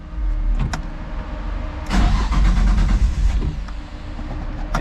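A Nissan 300ZX fitted with a KA engine cranks without catching: a starter whir with brief clicks, then a louder churning crank for a second or two, fading back to a low rumble, heard close with no talk.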